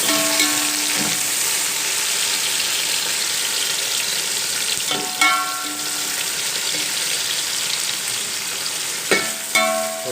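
Tomatoes, green chillies and ginger fry in a pan with a loud, steady sizzle, broken by a few sharp scraping clatters of a spoon stirring them.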